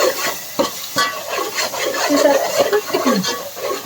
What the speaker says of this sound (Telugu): ఒకసారి ఇలా కలిపేసేసుకుందాం